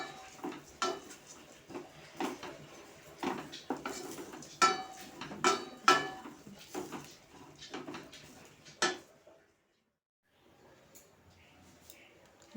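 Rice dry-roasting in a pan over low heat for pakon pitha, with a spoon scraping and clinking against the metal in uneven bursts, close and moderately loud, then near silence and faint soft stirring.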